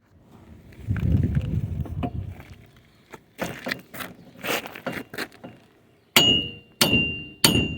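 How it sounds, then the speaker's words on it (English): Sharp metallic hammer blows strike a rusted wheel stud soaked with PB Blaster; a few scattered knocks come first, then three loud ringing clangs near the end, close and alone without talk. "Just hit it with a hammer that way and it should pop out."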